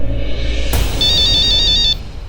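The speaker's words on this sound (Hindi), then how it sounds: "मेरा फोन बज रहा है।" A mobile phone ringtone rings out loud and steady, a repeating electronic melody that runs for about a second before cutting off, with a household room's background behind it.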